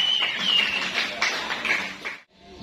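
Applause from an audience after a dance group's entertainment show at a lagoon reef hotel, a dense steady patter of many hands that stops abruptly near the end.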